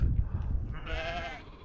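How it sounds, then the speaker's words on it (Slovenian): A sheep or goat outdoors on the island of Rab lets out a single wavering bleat from moderate distance, rising over low wind rumble in the latter half. "Za ovce, kozice."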